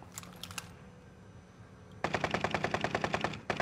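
Automatic gunfire in Call of Duty: Warzone on Rebirth Island, a fast rattling burst of many rapid shots after a few scattered earlier pops, close and loud with no talk.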